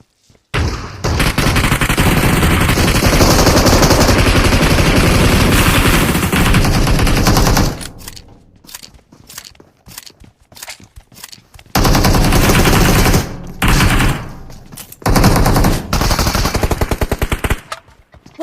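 Shotgun and AKM fire in PUBG Mobile: long loud bursts of rapid automatic shots, then a quieter stretch of scattered single blasts, and more dense bursts near the end, heard close with no talking.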